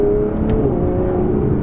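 Aston Martin Vanquish with a 177-derived exhaust system, heard from inside as a loud, steady engine drone with a few brief crackling pops near the start.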